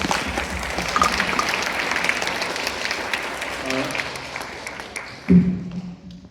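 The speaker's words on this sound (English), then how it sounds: "I would love you to give yourselves a huge round of applause." A live audience at a book author's question session in Belmont, North Carolina gives a sustained round of applause, with a voice speaking over it and a loud thump near the end.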